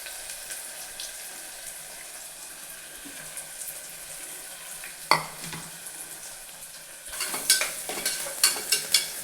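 Onion and green chillies fry for mutton curry with a faint, even hiss, a single sharp knock midway, then a burst of quick scraping stirs near the end.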